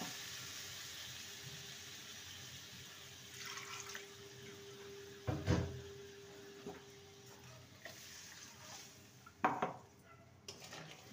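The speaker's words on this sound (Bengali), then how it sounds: "এটা মশলা ধোয়া জল।" Water used to rinse spices is poured into a cooking pan of sizzling masala, with a faint running trickle, a couple of sharper splashes and clinks of metal cookware in a quiet kitchen, no voices.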